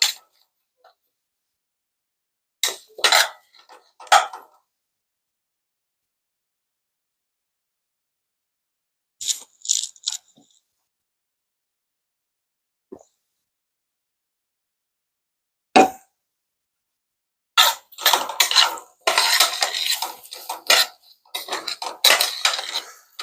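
Fajita vegetables stirred in a pan, heard as scattered bursts of utensil scraping and clinking against the pan between silent pauses, busier and more continuous toward the end.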